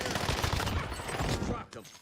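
Dense video-game gunfire rattles in fast, close bursts for most of the moment, then drops away sharply near the end, with game voices mixed into the shooting.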